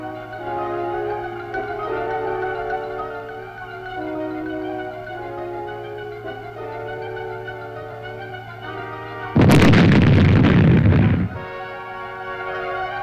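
A single heavy blast of plastic explosive demolition charges destroying land mines in 1969 Vietnam erupts suddenly and loudly, roaring for about two seconds over a steady droning background.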